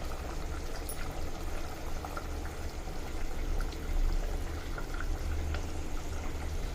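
Village-style fish curry boils in a pot, a continuous low bubbling and simmering murmur heard close and fairly soft, with no voices.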